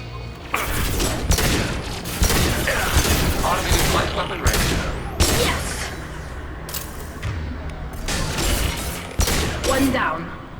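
Pistol fire in the Mass Effect 2 video game: repeated sharp, loud shots in quick irregular bursts mixed with thuds and other combat noise, running throughout alongside a talking voice.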